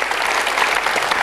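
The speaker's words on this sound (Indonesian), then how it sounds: "Selamat sekali kita berikan tepuk tangan." A television studio audience breaks into loud, dense applause, a brief steady burst of clapping close up.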